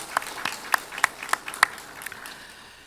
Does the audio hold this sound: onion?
no